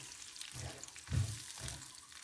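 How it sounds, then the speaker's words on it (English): Cooked shrimp and chopped onions fry quietly in a pan, a soft sizzle that swells in a few brief bursts as the food is moved about, with no voices. "Let it fry."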